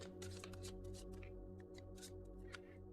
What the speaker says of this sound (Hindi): शफल कर लेते हैं कार्ड्स यहाँ पर।